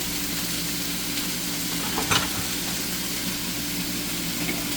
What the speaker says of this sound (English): We just want to sweat this, make sure we mix it around